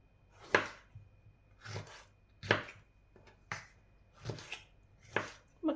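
A knife chops through tomatoes on a board in six separate strikes spaced about a second apart, each a crisp thud close up.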